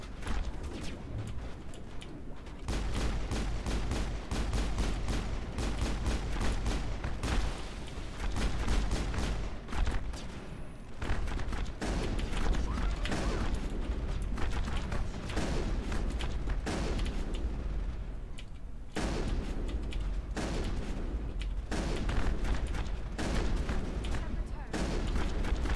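Heavy arms fire in the sci-fi game Mass Effect rattles in repeated bursts of shots and booms across a long stretch, mixed with game sounds and spoken dialogue.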